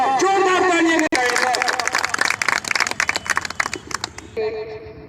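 Applause from the audience at a National Conference district gathering in Udhampur, a dense crackle of clapping that rises after the introduction and runs for several seconds, with a voice speaking over the start and end.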